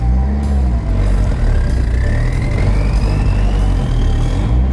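A twin-turbo Honda Civic pulls hard in first gear, its engine note rising loud and close as it accelerates, with a steady roar and no talking.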